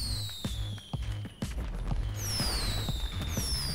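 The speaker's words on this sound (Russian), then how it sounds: "Надо салют пустить" Fireworks launched during a New Year's celebration in the video game GTA Online: repeated thumping launches and crackling bursts, followed by loud whistling rockets sweeping across the sky.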